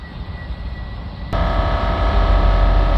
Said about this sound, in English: can hear now the compressors come on.